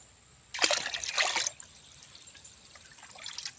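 Spring water trickles and splashes for a second or so as it is poured to water plants, a soft near splatter that fades to a faint dribble against quiet outdoor background.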